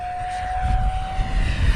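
An ARROWS Hobby MiG-29 Fulcrum RC model jet flies steep turns over a grass field. Its engine gives a steady, moderately loud whine with a rushing roar that swells and fades as it passes.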